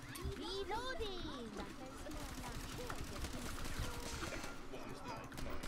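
Rapid gunfire crackles in the blocky online shooter Block N Load, quiet and dense bursts mixed under game voices and chatter.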